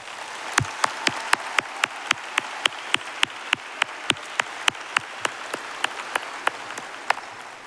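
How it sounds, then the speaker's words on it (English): Graduation audience at a high school ceremony clapping steadily, a sustained wash of applause with sharp individual claps standing out near the front, continuous throughout with no talking. "Please join me in giving all of our distinguished guests a round of applause."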